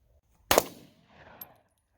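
A single sharp gunshot at an outdoor shooting session, fairly close and loud, followed by a faint echo and scattered distant noise fading out.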